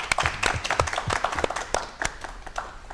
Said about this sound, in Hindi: आप सभी किसान भाई एक बार ताली बजा के हर्षध्वनि स्वागत करें